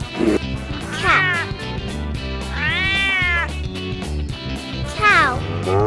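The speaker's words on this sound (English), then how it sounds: "Cat." A cat meows several times at short intervals, each meow clear and close, over a light musical backing.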